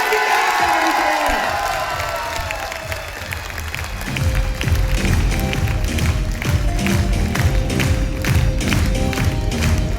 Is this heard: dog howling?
no